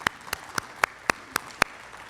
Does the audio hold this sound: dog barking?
no